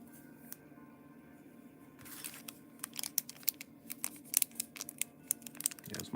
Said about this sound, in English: I might need to cut this open with scissors.